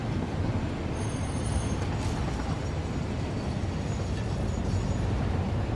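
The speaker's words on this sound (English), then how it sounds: "And then the trains will never stop when they go through here." Trains running through a rail intersection in the video game Satisfactory, a steady, dense rumble of rolling rail cars with faint high squeals, continuous and fairly loud throughout.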